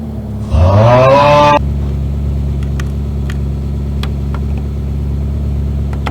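A Ferrari F40 on a dyno, fueled with 100 octane race gas, fires up with a loud rising rev that sweeps up sharply, then settles into a steady rumbling idle with occasional ticks and clicks.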